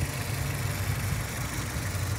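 A naturally aspirated 1.8-litre four-cylinder Honda Civic engine idles steadily up close, a continuous low rumble with no talk over it.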